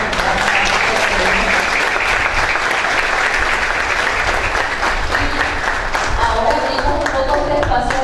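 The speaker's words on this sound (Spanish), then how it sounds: "les damos un fuerte aplauso" Sustained audience applause after a talk at a university education-week conference in Mendoza, a dense, loud wash of many hands clapping steadily for the whole stretch, with some crowd noise mixed in.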